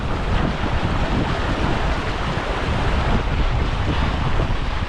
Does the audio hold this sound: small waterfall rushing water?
yes